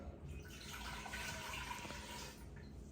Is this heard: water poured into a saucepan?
yes